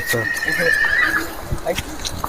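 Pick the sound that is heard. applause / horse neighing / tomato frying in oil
horse neighing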